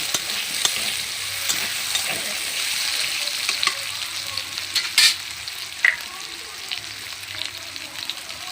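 Sweet potato pieces fry in oil with a continuous soft sizzle, with occasional spatula taps and clinks against the pan, heard up close and without voices.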